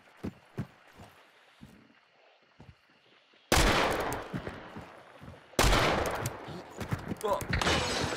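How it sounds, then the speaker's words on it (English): A frag bomb goes off in the video game Hunt: Showdown, two loud, sudden broadband blasts that each leave a long, rumbling tail, after a quieter stretch of faint thumps and game noise. "Frag bomb, nice."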